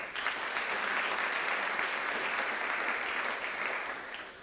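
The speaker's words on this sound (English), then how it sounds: "Give him a round of applause" Sustained audience applause at a high school honors night awards ceremony, steady and dense from start to finish with no talking.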